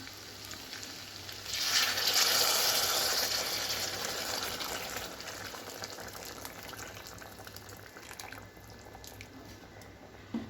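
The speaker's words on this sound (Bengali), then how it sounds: "এবার আমি এতে গরম জল দিয়ে দেবো" Hot water poured into a pot of mutton curry with spiced potatoes, a close splashing gush that swells for a few seconds and then fades into a quieter bubbling simmer.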